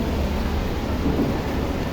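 Steady, dense roar of heavy rain on a seaside boardwalk in North Point, Hong Kong, continuous and loud with no voices.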